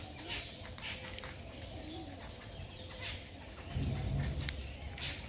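Pigeons coo softly at Sarnath in early morning, low repeated murmurs mixed with chirps and calls of crows and other small birds, with a fuller burst of cooing close by toward the end.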